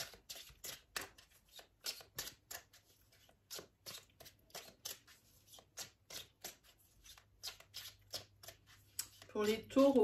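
Tarot cards being shuffled by hand, a quick series of crisp riffling and slapping bursts in an irregular rhythm, close and fairly quiet, with speech heard at the very end.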